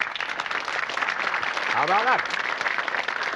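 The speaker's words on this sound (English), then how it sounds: "so a round of applause, please, from the Porth County Comprehensive School" Studio audience applause on a 1984 British television quiz show, a broad steady wash of clapping that fills the clip while someone speaks briefly over it.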